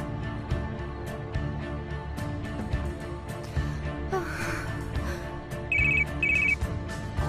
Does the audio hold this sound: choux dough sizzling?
no